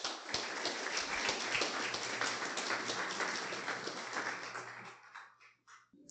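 Church congregation applauding, dense sustained clapping from many people that carries on steadily, then thins and fades into scattered claps at the end.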